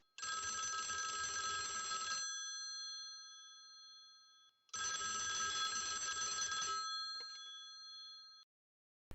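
A telephone rings in two long electronic bursts, each about two seconds, separated by a pause, loud and close in an otherwise quiet room.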